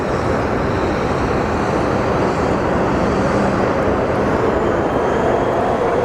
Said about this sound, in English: With the Hawaiian Airlines A330 about to go through.